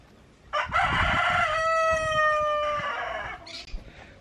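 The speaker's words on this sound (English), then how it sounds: "That's my grandma's chicken house. She has a lot of hens, a couple of roosters, and a couple of ducks." A rooster crows loudly and close by inside a chicken house full of hens, its long cock-a-doodle-doo rising and holding for about two seconds, with a few clucks around it and short bursts of noise before and after.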